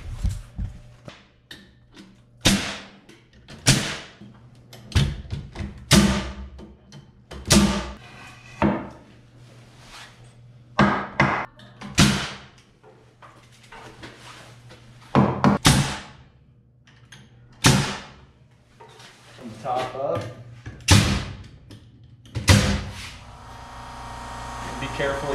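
Nail gun shots fastening framing lumber, trimmers or cripples driven onto king studs in a basement, a dozen or so loud sharp bangs at irregular intervals with low background hum.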